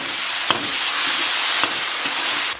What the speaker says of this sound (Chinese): 尽量给它扒拉一下，这肉给它靠出油了呀